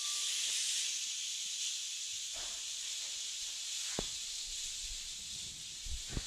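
A salmon steak hisses in a pan with olive oil, a steady bright sizzle up close with a few small pops and taps from handling.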